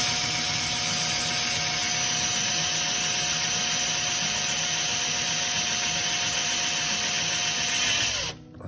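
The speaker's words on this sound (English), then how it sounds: "we're going to drill a pilot hole through the bracket" A drill runs steadily and loudly at close range, boring a pilot hole through the metal bracket of a Stressless footstool, then cuts off abruptly at the end.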